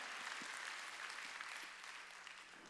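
Congregation clapping during a Wednesday worship service in a church; a faint, even wash of hand claps lasting a few seconds, distant and without speech.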